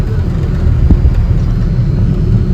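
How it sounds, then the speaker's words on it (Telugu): Steady low engine rumble and road noise from inside a slow-moving pickup van on the way to Miyapur, Hyderabad, continuous and fairly loud throughout with no clear voices. "ఇప్పుడు పికప్ వ్యాన్లో వెళ్తున్నాం భయ్య"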